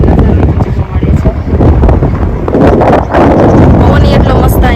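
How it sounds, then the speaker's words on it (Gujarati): Strong wind blows past the microphone in an open setting, where it lifts a saree. The gusting buffets are loud and continuous and drown out the rest of the scene. "પવન એટલો મસ્ત અહીંયા આવે છે કે સાડી મસ્ત ઉડે છે"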